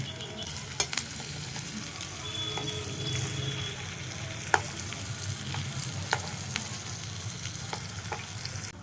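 Garlic and onion fry in a miniature pan, producing a soft, steady sizzle with sharp spatula taps and clicks scattered through it, no one speaking.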